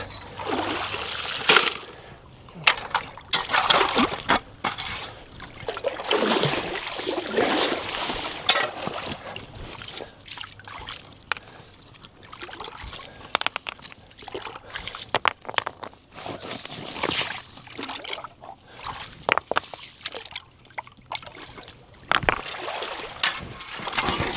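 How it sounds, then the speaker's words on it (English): Water running through a 1/4 inch classifier into a gold sluice station, a noisy, uneven rush and splashing with bursts of gravel and material being dumped, close and fairly loud throughout. "So we're running through a 1/4 inch classifier and then into my sluice station."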